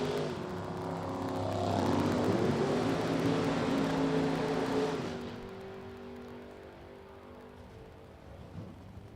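A Chevrolet Monza drag racing car running in the Super Gas class at a drag strip, its engine roaring loudly as it builds to a peak, then fading away into the distance, with no voices.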